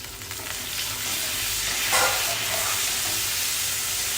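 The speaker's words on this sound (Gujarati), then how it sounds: "હવે એની અંદર 2 થી 3 ટેબલ સ્પૂન પાણી એડ કરીશું." Close, steady sizzling and hissing fills a pan as a few spoonfuls of water go into a frying patra mixture with turmeric and asafoetida, with a brief steam surge near the middle.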